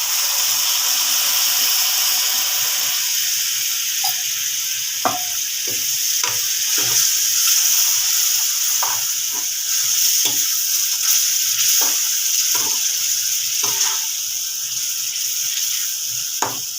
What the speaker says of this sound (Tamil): நல்லா குழம்பு வந்து கொதிச்சிருச்சு